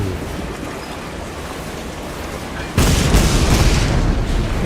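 A ship's deck turret fires at a cargo hulk at sea in the naval combat game Battlestations, a sudden heavy boom cutting in midway over steady rolling ocean noise and leaving a loud, rumbling wash behind it.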